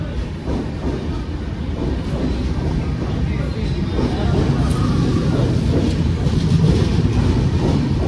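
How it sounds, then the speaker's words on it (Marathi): The Janshatabdi Express from Mumbai CST to Madgaon rumbles along in a steady, dense roar with faint rhythmic rattling, heard from on board with a continuous loud wash and no clear talk. "मित्रांनो, फायनली आमची गाडी आलेली आहे, जनशताब्दी एक्सप्रेस CST"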